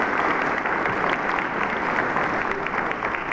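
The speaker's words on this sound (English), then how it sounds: "Let's give them a round of applause" A church congregation applauding during a baby and child dedication service on Mother's Day, steady continuous clapping filling the room at an even level throughout.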